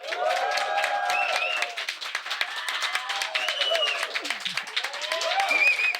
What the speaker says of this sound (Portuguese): com uma plateia maravilhosa que vai fazer muito barulho agora